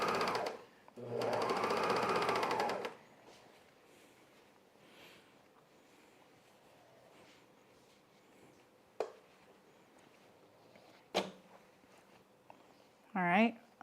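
A sewing machine stitches men's underwear in a loud, steady run of rapid needle strokes lasting a couple of seconds, then falls quiet apart from a few sharp clicks and handling noises.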